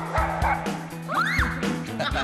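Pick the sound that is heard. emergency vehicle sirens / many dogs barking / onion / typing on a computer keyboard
many dogs barking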